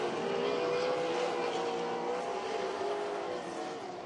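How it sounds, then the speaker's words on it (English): Off-road race truck engine at a TORC short-course race, a loud sustained roaring motor with a buzzing tone, holding steady then easing slightly toward the end. "That motor sounds good."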